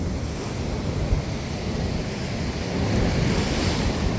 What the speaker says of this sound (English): the ocean got wild, and the ocean started coming in